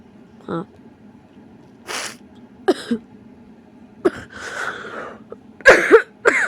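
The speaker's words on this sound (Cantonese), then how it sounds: "最近有啲咳最後有啲咳" Several short coughs and throat-clearing bursts, scattered across a few seconds in a quiet indoor setting, close and fairly loud, with the last ones coming in a cluster.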